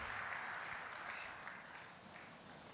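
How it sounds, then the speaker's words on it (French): A church congregation clapping at a French-language worship service, a faint, distant wash of applause that slowly fades over a few seconds. "Acclamons la parole du Seigneur."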